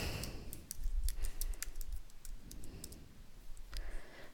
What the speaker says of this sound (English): type my email in the box and click next